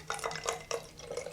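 Distilled water poured into a houseplant pot during repotting of a Pinstripe Calathea, heard as a short run of soft, close splashes and drips with brief pauses between bursts, faint and without talk.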